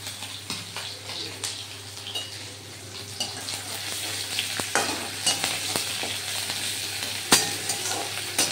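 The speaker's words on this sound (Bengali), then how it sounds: "এই যে পেঁয়াজ মানে এটা ভাজা হয়েছে চিংড়িটা শাকের জন্য, দিয়ে দিলাম রসুন" Chopped onion and garlic sizzle in hot oil for a shrimp and greens dish, a continuous crackling fry with occasional stirring scrapes and clinks, close and moderately loud.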